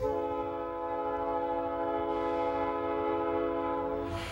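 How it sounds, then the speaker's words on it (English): An Iowa, Chicago and Eastern freight train sounds its horn at a level crossing, a sustained multi-tone blast held for several seconds, loud and fairly near, easing off at the end. "The crossing arms are just coming down as the train approaches the intersection"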